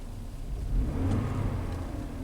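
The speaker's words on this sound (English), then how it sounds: "So I just revved up the engine there." A GM car engine with electrical faults revs up with a low, steady rumble that swells in the middle and holds, fairly close, with no voices.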